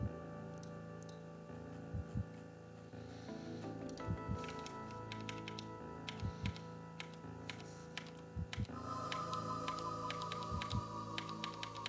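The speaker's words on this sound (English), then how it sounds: "I'm just going to type what this thing says." Key clicks from a classic Macintosh keyboard, typed in short bursts of several strokes with pauses between them, close and fairly quiet over a steady electronic hum.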